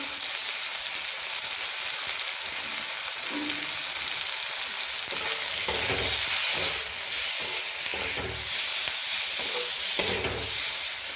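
Spices with salt and turmeric fry in a hot pan with a loud, steady sizzle and hiss, broken by repeated scraping and stirring strokes over the whole stretch, with no voices.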